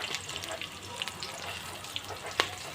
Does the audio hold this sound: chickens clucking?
no